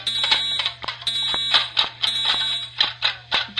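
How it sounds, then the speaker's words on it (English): A school fire alarm rings loudly in repeated bursts, each pulse of bright electronic tone following the last at a steady rhythm, with a low steady hum beneath and no talking. "Fire alarms go off."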